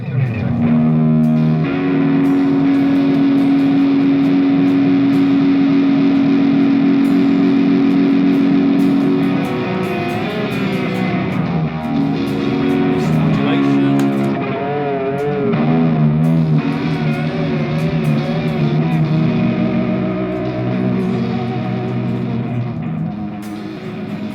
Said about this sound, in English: we'll just do some dub echo effects